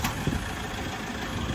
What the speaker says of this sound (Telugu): ఇంజన్ సౌండ్ కూడా చూపించాం కదా